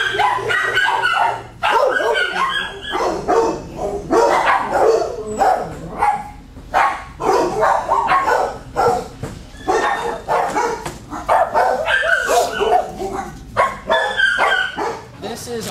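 Several dogs at an SPCA animal shelter, near an agility training area, bark and yip nearly nonstop in loud, overlapping bursts that fill the space, with some whimpering mixed in.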